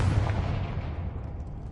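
A Confringo fire spell in the Hogwarts video game bursts into a deep, booming blast that rumbles and fades over a second or so, loud and close with no talk.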